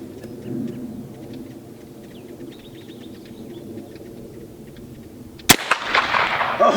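Birds chirp faintly in an open range before a case-hardened Winchester 1873 lever-action rifle fires one sharp, loud shot at steel targets, followed by a rolling echo.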